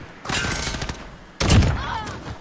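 Rifle fire in a Call of Duty Modern Warfare match, two loud close bursts of shots with a sharp crack and heavy rolling echo, the second burst punchier and louder, and no talking.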